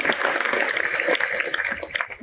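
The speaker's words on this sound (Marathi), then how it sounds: "जरा सर्वांनी जोरदार टाळ्या वाजायचे" A crowd at a political gathering with pilgrims breaks into applause, a brisk burst of clapping that rises and falls over about two seconds, heard at moderate distance in a reverberant space.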